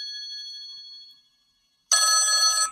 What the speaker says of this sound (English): Or you could play a phone ringing noise too.